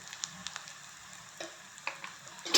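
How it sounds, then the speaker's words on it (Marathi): Spices sputter softly in hot oil for a potato sabzi. A faint, low hiss is broken by a few scattered pops and ticks, heard alone without talk. "आणि सगळं हे मिक्स करून सगळे मसाले तेलामध्ये परतून घ्यायचे"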